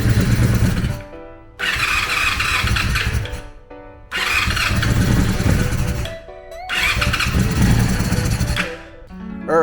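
A Honda engine with its choke on, primed with starter fluid, cranks and catches in three loud bursts of starting and revving, each separated by a short quiet gap, close up with no talk.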